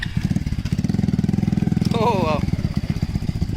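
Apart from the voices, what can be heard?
three-tyre motorcycle riding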